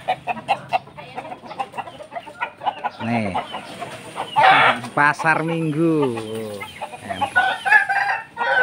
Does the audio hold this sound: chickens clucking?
yes